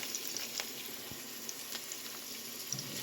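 Potatoes sizzling and frying in a pan, a soft steady crackle with faint bubbling and occasional small pops, heard alone at low volume.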